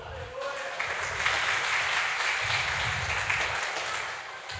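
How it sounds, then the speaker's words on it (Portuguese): A church congregation applauds after a prayer during a Mother's Day sermon, a steady wash of clapping that holds at an even level for several seconds, with some speech-like sound mixed in. "Aplaudam a palavra do Senhor."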